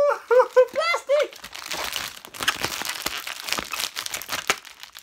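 Plastic packaging crinkles and crunches in a run of irregular crackles, close and fairly loud, following a brief burst of talk at the start.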